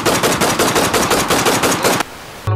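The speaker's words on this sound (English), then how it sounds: "Gunshots?" Rapid bursts of gunfire, about a dozen sharp shots in quick rhythmic succession like an automatic weapon, loud and close, then abruptly stopping.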